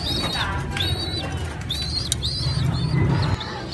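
Pigeons after a midafternoon feeding flap their wings in short bursts and chirp, with repeated high calls over a steady low rumble close by.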